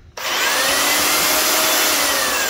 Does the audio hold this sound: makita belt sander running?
yes